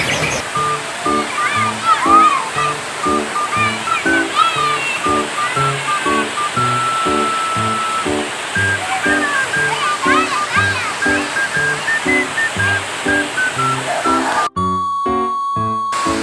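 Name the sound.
strong waterfall with a child bathing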